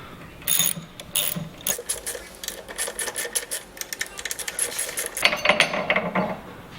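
Metal 1/4-20 bolts being loosened and pulled from the top piece of Biltwell high-tracker motorcycle risers, with a run of close ratcheting clicks and small metallic rattles and clinks, with no talking.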